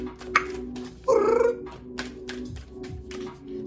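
A Sphynx cat gives a short, rising vocalization, moderately loud and close, among scattered faint clicks and soft background noise.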